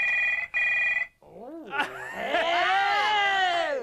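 A telephone in a breakfast television studio rings twice in quick bursts, followed by people's voices, with one drawn-out exclamation.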